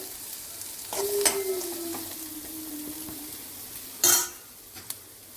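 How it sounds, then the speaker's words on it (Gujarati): Onions sautéing in oil in a pan for an aloo-matar sandwich filling give a soft, steady sizzle, with a brief scrape of a spoon stirring near the start and a sharper clatter of a utensil about three quarters through, with no talk. "તમે જોઈ શકો છો ડુંગળી આપણી તેલમાં સંતળાઈ ગઈ છે"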